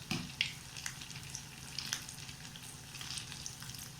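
Malai koftas fry in a pan of hot oil, giving a steady, close crackling sizzle with scattered sharper pops throughout and no voices.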